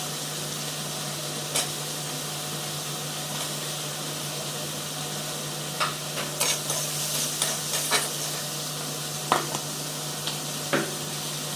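Food fries in two pans at once with a constant sizzle, while a spoon stirs and scrapes the pans in irregular clicks and scratches that grow busier toward the end, close and fairly loud.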